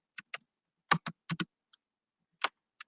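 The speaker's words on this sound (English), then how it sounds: "Oh, I was typing and it wasn't even there." Computer keyboard typing nearby, a sparse series of about ten quiet, distinct key clicks spaced unevenly, some in quick pairs, against near silence.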